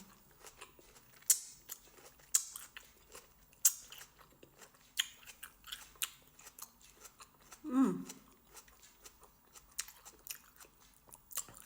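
Close, quiet crunching bites followed by steady chewing of a crisp, not fully ripe plum, with a brief murmur partway through.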